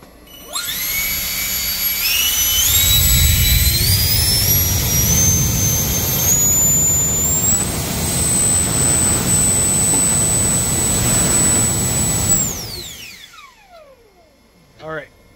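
FMS 90mm electric ducted fan with a 4068 1850kv motor on a 7s battery, loud and close: a whine that climbs in steps to a high sustained scream over a roaring rush of air, held steady, then spinning down and fading out.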